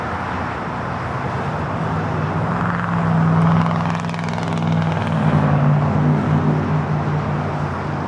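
An American Airlines jet starts its takeoff roll on runway 25 right at Los Angeles airport, a broad steady engine roar with a low droning hum that swells slightly as it goes, heard from a distance with no voices.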